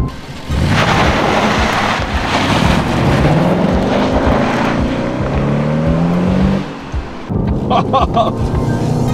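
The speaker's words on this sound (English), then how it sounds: "That engine note is worth every penny." A Jaguar XF sport luxury sedan with a V6 engine driving through twisting roads, its engine note loud and close, climbing steadily in pitch as it revs, dipping briefly near the end before pulling again.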